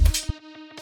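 A short burst of reverb blown out by OTT multiband compression, with a low thump and bright wash at the start and an over-squashed tail that swells and pumps unnaturally.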